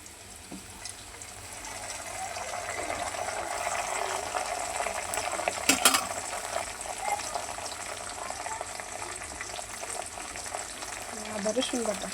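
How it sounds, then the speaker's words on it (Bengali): Onions and garam masala fry in a pan with a continuous, moderately loud sizzle and hiss, with a few clinks of stirring midway. No voice is heard. "এই যে পেঁয়াজটা আমার হালকা করে ভাজা হয়ে গেছে, পেঁয়াজের সাথে হালকা একটু লবণ দিয়ে দিছি।"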